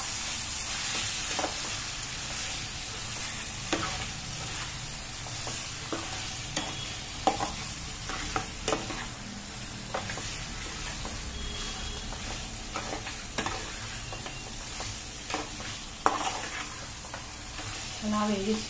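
Chicken pieces fry in hot oil in a pan with a continuous sizzle, broken by frequent scraping and clattering as a spoon stirs them, steady and close throughout.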